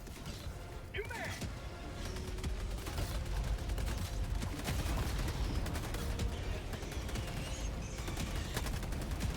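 A mortar sentry fires in Helldivers, a rapid and irregular series of blasts and mechanical clatter under distant gunfire. The volume stays moderate and continuous throughout.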